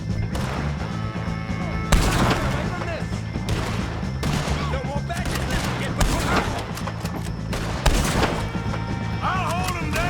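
Repeated gunfire erupts in the Red Dead Redemption 2 gameplay as O'Driscoll gang members are shot at during a hanging rescue, bursts landing near and loud over a constant din while voices shout and talk throughout.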